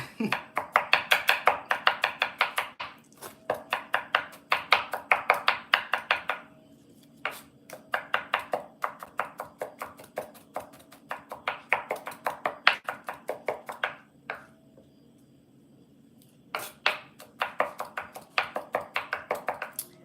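Knife chopping food on a cutting board, a close, loud run of rapid steady strokes falling in bursts separated by short pauses, with no talking.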